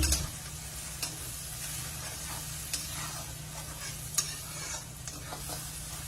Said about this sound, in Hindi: सभी मसाला को मिलाते हुए मीडियम फ्लेम पे 2 मिनट भून लेते हैं।